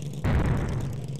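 A flipped vehicle blows up in the desert racing video game Race in Desert: a single sudden, loud boom that rolls into a sustained rumbling roar for about a second.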